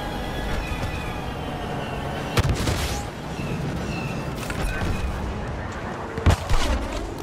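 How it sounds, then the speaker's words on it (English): Airstrike explosions pound the battlefield in the Star Wars Battlefront video game, two heavy booming blasts rising over a dense, continuous roar of combat noise. "Airstrike incoming."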